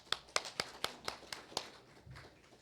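Scattered hand claps from a small conference audience: about nine sharp, quiet claps in a loose rhythm, thinning out and fading toward the end.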